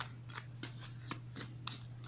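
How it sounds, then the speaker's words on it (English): Tarot cards are shuffled by hand close up, with a quick series of soft crisp riffles and slaps repeating in an irregular rhythm over a faint low hum. "you need to see the card shuffling because you're not trusting."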